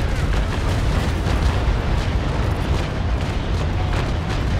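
A sustained, heavy rumble of ship cannon fire from a sailing-warship battle in Naval Action, with overlapping booms merging into a loud, continuous roar lasting several seconds.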